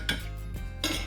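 A metal spoon clinks and scrapes against a dish while chicken adobo sauce is ladled over the chicken on a plate, with two distinct clinks and a soft scrape between them.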